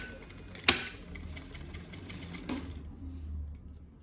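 A sewing machine stitches the final seam on a folded towel. A close, soft mechanical whir carries a sharp click near the start, fades briefly, then picks up again in a low hum toward the end.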